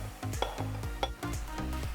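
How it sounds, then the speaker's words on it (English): Peas sizzling in olive oil with soffritto while being stirred in a pan, a continuous crackling fry broken by repeated scraping knocks of the spoon. "When it sizzles, add the peas."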